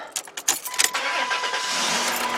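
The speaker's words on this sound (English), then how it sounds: "Let's try turning the car on." A car with a broken cassette deck and a starter replaced in 2017, rarely driven, is started. A few key and switch clicks come first, then a steady, close cranking and engine roar that holds to the end.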